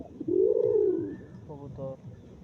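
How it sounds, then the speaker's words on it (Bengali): Pigeons cooing close by, a long swelling coo followed by shorter stuttered calls, with faint background noise and no talking. "একদম ফ্রেশ কবুতর।"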